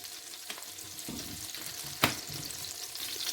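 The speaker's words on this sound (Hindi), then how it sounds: "इसको मैंने 2 मिनट अच्छे से भून लिया है" Chicken masala fries in oil in a pan, a soft steady sizzle with a few stirring scrapes and one sharp clink partway through.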